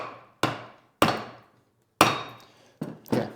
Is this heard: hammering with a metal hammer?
yes